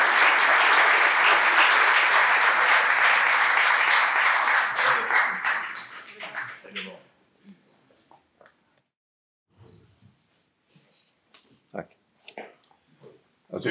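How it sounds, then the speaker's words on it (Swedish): Warm applause from the audience at the Swedish parliament's 75th anniversary celebration for a guest speaker: loud, dense clapping for about six seconds that fades out, followed by quiet room noise and a few scattered sounds. "Ge honom en stor varm applåd."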